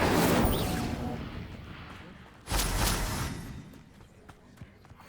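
A fire spell is cast in Hogwarts Legacy: a loud roaring whoosh bursts out, fades, then a second heavy blast erupts midway and trails off into a softer rumble.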